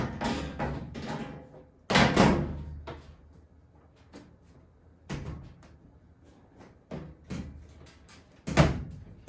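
The top cover of a front-load washing machine is set back on, with a few sharp metallic thumps and rattles separated by quieter handling noises, close and fairly loud.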